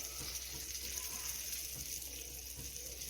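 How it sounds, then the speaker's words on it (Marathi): Fish frying in a pan gives a faint, steady crackling sizzle that runs evenly throughout with no other sounds. "तर इथं आपला मासा फ्राय होतोय का तर इथे मस्तपैकी आपला मासा फ्राय होत आलेला आहे"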